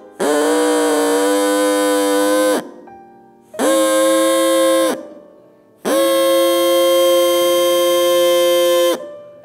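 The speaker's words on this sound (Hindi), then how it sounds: "अगर दो फ्रीक्वेंसी एक साथ बजा दें तो गाड़ी के हॉर्न जैसी आवाज़" Two drinking straws blown together give a steady, buzzing, horn-like tone like a vehicle horn, sounded three times in long loud blasts of about two to three seconds with short pauses between.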